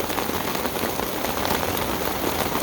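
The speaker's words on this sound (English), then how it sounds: "So, now it's raining." A rain shower falls on a hot day, a loud, close, steady patter of raindrops hitting surfaces without pause.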